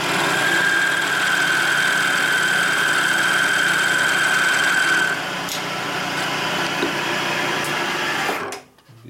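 A milling cutter shaping a part for a 1942 Harley WLA springer fork squeals with a steady high whine over the loud machine hum, the squeal stopping about halfway before the machine winds down.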